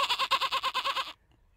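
A sheep bleats once, close and fairly loud, a quavering vibrato call about a second long that cuts off abruptly into quiet outdoor air.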